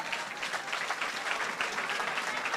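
A church congregation claps and acclaims, dense steady applause with cheering mixed in, sustained evenly throughout and moderately distant.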